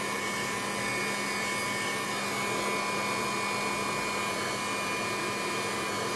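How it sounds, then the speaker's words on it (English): A heat gun blows steadily to dry mixed media paint on a canvas, making a constant, even whooshing hum that runs unbroken from start to finish at moderate loudness, with no voices. "you can always speed up the drying process using heat gun"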